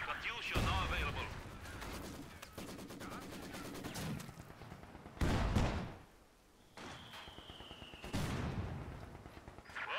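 Rapid machine gun bursts and heavy artillery blasts from a Company of Heroes 2 multiplayer battle, loud staccato volleys broken by deep booming impacts, with in-game voice callouts over the gunfire.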